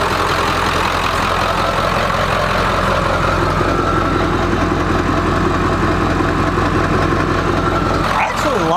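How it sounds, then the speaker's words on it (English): A 7.3 PowerStroke diesel pickup truck idles steadily with a freshly fitted axle-dump exhaust tip, its low, even rumble continuous and close throughout, ending in a brief swell near the end. "got the truck started up and"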